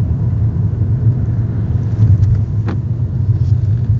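A Volkswagen Bora drives steadily with a low, even engine rumble and road noise heard from inside, no talking, with a faint brief squeak partway through.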